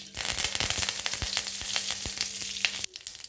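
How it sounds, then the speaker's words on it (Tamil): Mustard seeds and curry leaves splutter in hot oil for a South Indian tomato rasam, with a dense run of sharp, close popping crackles over a steady sizzle, all fairly quiet, then a short hush just before the end. "கடுகு கொஞ்சம் போட்டுக்கலாம். நல்லா பொரிஞ்சு வரட்டும்."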